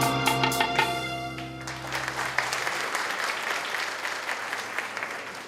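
Audience applause at a Kannadasan poetry festival song competition, a steady wash of clapping that swells after a fading musical chord and continues at moderate loudness.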